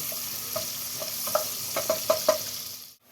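Chopped onions fry in a pan with a steady close sizzle, broken by a handful of sharp stirring clacks that cluster toward the end before the sound cuts off.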